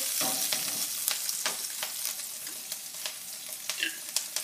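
Chili frying in about a tablespoon of oil for a Chinese beef stir fry, a steady close crackling sizzle broken by sharp spatula clicks and stirring scrapes.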